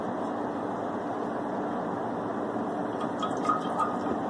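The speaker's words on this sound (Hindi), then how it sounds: "ऐसे पानी से इसको अच्छी तरह से हमें ये धोना है।" Food being washed by hand in a pot of water during home cooking, a steady wash of sloshing water with a few small drips and splashes near the end, with no talking.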